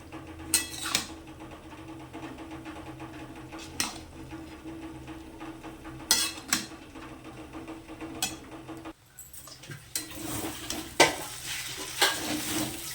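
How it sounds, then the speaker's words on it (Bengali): Pasta stirred into spices in a frying pan, with a soft sizzle under scraping and clinking of the spoon against the pan, plus a few sharper knocks, close and fairly quiet. "মশলার মধ্যে আমি পাস্তাটাকে ঢেলে দিলাম।"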